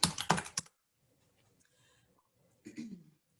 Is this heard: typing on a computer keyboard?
yes